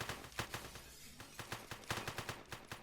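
Video-game gunfire from a robbery-themed shooter rattles in rapid automatic bursts with short gaps, loud and close throughout.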